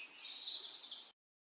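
A parrot gives one sustained shrill call, a bright squawk lasting about a second that cuts off abruptly into silence.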